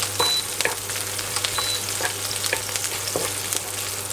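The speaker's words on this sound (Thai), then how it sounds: "ก็ผัดจนเหลืองนะครับ" Glass noodles stir-fried with holy basil and minced pork in a hot pan, a steady close sizzle with scraping strokes of a spatula recurring every second or so.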